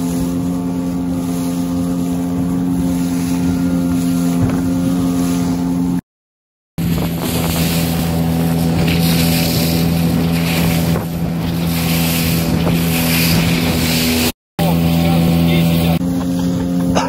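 A motorboat runs steadily along the Koyda river at a strong, constant drone with wind buffeting the microphone and water rushing past, broken by two brief dropouts.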